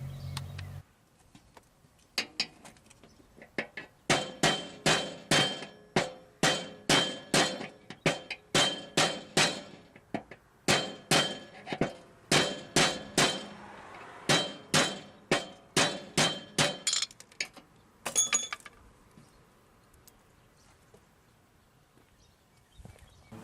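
A worker hammers out a deck bearing on a 1987 John Deere 160 mower. A quick run of sharp metallic strikes comes in rhythmic bursts, close and loud, then a short pause and a final clink.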